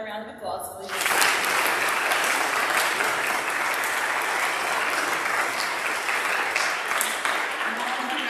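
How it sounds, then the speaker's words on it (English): A school audience breaks into sustained applause for eighth grade speeches, a brief voice before it giving way to dense clapping that holds steady through the rest. "Can we give them another round of applause, please?"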